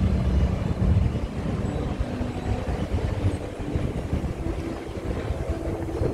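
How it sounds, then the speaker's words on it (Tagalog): Strong wind roars and buffets continuously against the microphone in Tsim Sha Tsui, Hong Kong, a loud, rumbling rush with no voices. "Ay, mahangin na naman."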